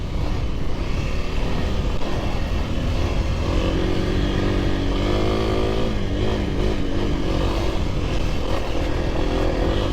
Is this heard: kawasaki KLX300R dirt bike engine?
yes